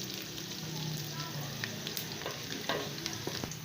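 Onions frying in a pan until lightly browned, a steady close sizzle with soft stirring scrapes and a few crackling pops.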